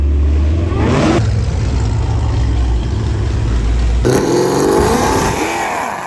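A supercharged muscle car engine revs loudly at a drag race start line, a deep roaring drone that shifts in pitch twice as the throttle changes, close and continuous.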